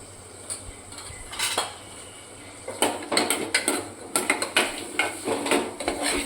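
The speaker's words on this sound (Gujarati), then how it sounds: "આ રીતે મસાલો સરસ મિક્સ કરી દઈશું" A spoon stirs red chili powder, turmeric and coriander-cumin powder in a pan for a brinjal-potato curry, making sharp metallic clinks and scrapes in an irregular rhythm, close and loud, growing busier toward the end.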